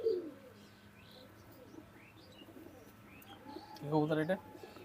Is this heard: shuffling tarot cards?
no